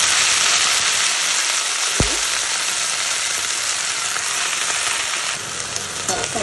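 Garlic fries in a pan for Bengali-style drumstick leaf stir-fry, a loud steady sizzle that runs continuously, with one brief clatter of a utensil partway through and crackling that picks up near the end.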